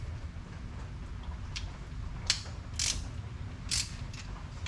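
A torque wrench tightens bolts on a rebuilt Polaris Ranger 800 engine, giving a few sharp metallic ratchet clicks and creaks over a quiet low background hum.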